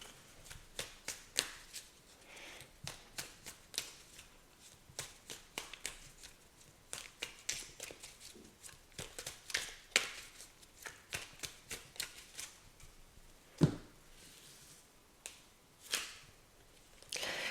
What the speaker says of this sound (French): je vais vous prendre une petite carte du petit oracle des fées comme petit conseil